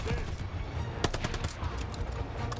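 Rapid automatic gunfire in Call of Duty: Vanguard rattles in a dense burst, loud against a constant wash of game noise.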